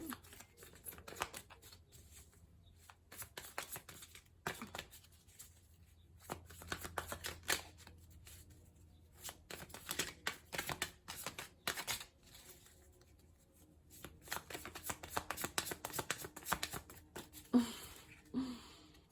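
New, smooth tarot cards being shuffled, with a steady run of close riffling and slapping bursts that pause now and then across the whole stretch, and no voice over them.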